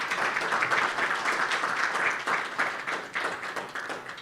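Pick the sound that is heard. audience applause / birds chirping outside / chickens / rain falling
audience applause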